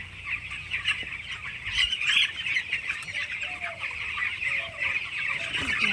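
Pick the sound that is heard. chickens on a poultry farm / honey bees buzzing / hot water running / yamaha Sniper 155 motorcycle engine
chickens on a poultry farm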